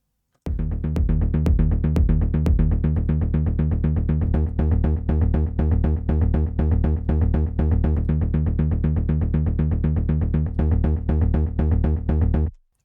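A melodic techno synth bass plays a steady, pulsing riff of repeated punchy notes, loud and alone, played once unprocessed and then again after processing.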